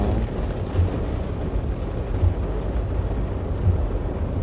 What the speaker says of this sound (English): Yeah, it's really raining, girl.